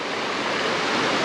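A river on the Holden Cove Trail rushes close by as a steady, broadband roar of flowing water with no pauses.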